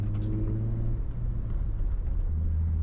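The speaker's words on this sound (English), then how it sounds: "I'm going to shift into third, right?" A manual car cruising, its engine a steady low rumble throughout with slight shifts in pitch as it changes into third gear, close and continuous.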